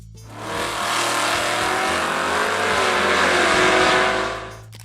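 A 1969 Ford Torino GT muscle car with a V8 engine roars loud and close, rising in a sustained rev for about four seconds before dropping away.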